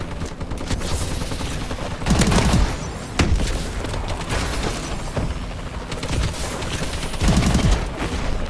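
Bursts of rapid gunfire in a shooter video game, loud and close, with several volleys and shots repeating across the stretch, no talking over them.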